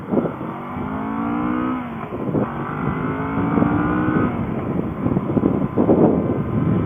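A Kawasaki Vulcan S motorcycle pulls away from a stop sign on an open road, engine note climbing steadily through the gears, loud and continuous with wind noise and no talking.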